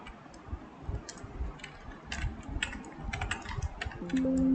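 Fingers typing a chart axis title into Excel 2010 on a computer keyboard, a quick uneven run of light clicking keystrokes in short bursts, near and fairly quiet.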